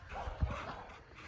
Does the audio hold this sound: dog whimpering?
yes